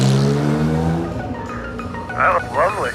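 An Acura race car fires up and pulls away, its engine note rising with revs and a tire squeal, loud and close, with people talking over the start.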